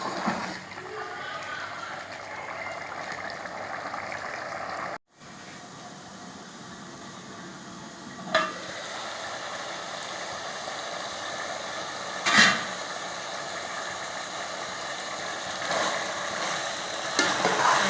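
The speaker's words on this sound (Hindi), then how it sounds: "ऑयल डाल के अच्छी तरह भूनना है इसे" Black gram frying and being stirred in oil in a pan, a continuous soft sizzle broken by a few short scraping clatters of the spoon, with one brief gap of silence.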